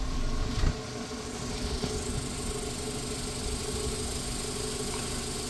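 A Renault Twingo mk1 engine idles steadily with a newly fitted catalytic converter and a suspected exhaust leak, giving a continuous low, slightly throaty drone with faint rattle and one brief knock near the start.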